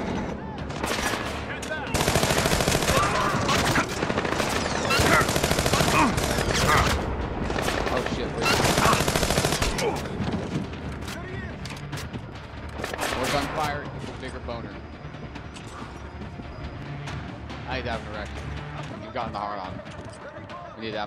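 Bursts of loud gunfire from a stealth-action shooter set in a missile plant, with dense rapid volleys early on and sparser shots later, mixed with game noise and someone talking over it.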